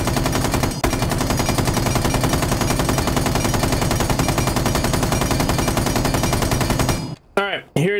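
Capitão's light machine gun fitted with a compensator fires in Rainbow Six Siege at 10 meters, a loud, sustained automatic burst of rapid rhythmic shots for about seven seconds, ending abruptly with a few trailing echoes.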